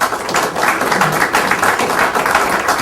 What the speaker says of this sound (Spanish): recibámoslo con un caluroso aplauso